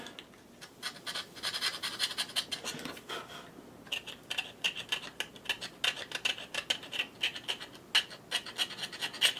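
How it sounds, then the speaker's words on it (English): A hobby blade scraping a mold line off the plastic part of a Merr-Sonn Power 5 blaster kit, making close, repeated short rasping strokes in quick rhythm, with a brief pause partway through. "hit it with the front of the blade. Scrape it out."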